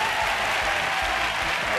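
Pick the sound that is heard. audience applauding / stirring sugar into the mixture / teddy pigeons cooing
audience applauding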